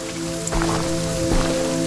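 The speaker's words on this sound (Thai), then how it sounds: "ฝนตกด้วย" Steady rain from the horror game Visage patters on a surface, dense and continuous, with a low electronic hum underneath.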